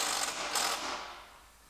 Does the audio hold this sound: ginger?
no